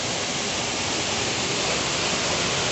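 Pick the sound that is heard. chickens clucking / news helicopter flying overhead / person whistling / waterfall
waterfall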